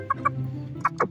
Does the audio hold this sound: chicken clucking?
yes